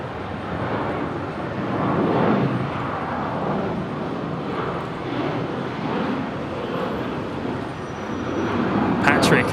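A Jetstar A321neo airliner taxis at Brisbane Airport, its steady broadband engine rumble holding throughout with slight swells, a distant hiss rising near the end.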